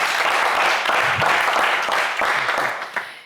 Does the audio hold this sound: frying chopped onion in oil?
no